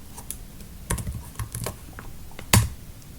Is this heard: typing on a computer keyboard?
yes